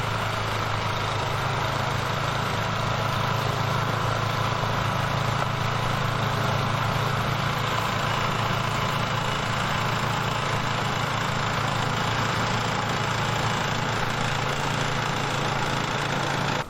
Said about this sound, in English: Well, I'm done snow blowing.